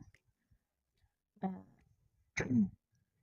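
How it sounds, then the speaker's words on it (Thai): A woman with an itchy, sore throat clears it twice, short rough rasps separated by a pause in an otherwise quiet room. "เราอาจจะกระแอมแบบนี้บ่อยๆหน่อยนะคะ"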